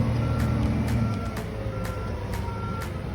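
A Toyota Tacoma pickup giving its reversing alert: six evenly spaced beeps over a low engine idle, fairly close and unaccompanied by talk.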